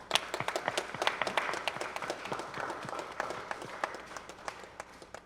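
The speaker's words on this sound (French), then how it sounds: "On applaudit." Audience applause at a feast-day Mass closing the academic year at a philosophy institute, with sustained clapping from a standing assembly, the many hands rising into a dense, lively patter across the whole stretch.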